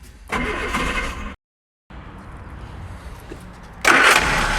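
A 1964 Vauxhall HA Viva engine, left standing for 19 years, cranks and fires, cuts out briefly, then catches again into a rough idle before a sudden louder burst of revving at the end.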